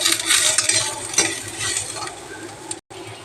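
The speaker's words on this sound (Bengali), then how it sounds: "দেখো আমার বিনস গাজর ভাজা হয়েছে" Beans and carrots sizzle in a pan while a utensil stirs and scrapes in uneven strokes, the frying hiss close and fairly loud, then briefly cutting out.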